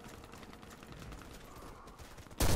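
In the video game Warface, faint clicking and movement give way to a sudden loud gunshot blast at the very end.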